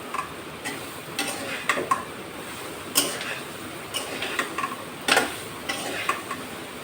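Spatula stirring chopped sponge gourd in a cooking pan, scattered scraping and tapping strokes over a faint sizzle.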